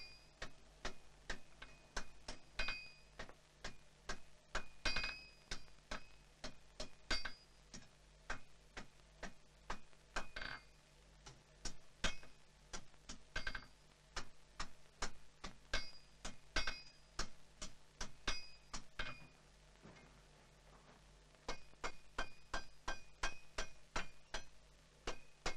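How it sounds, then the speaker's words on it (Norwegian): A small forging hammer taps a scythe blade in a quick, steady rhythm of bright ringing metal strikes, continuing for a long stretch with only brief pauses. "Til dette brukes min liten hammer, kjøhammer."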